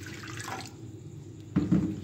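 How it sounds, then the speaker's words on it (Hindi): A cup of water is poured into a cooking pan for a broccoli soup, a brief splash and trickle followed by a louder, fuller gush near the end, with no speech. "पैन में हम डालेंगे 1 कप पानी"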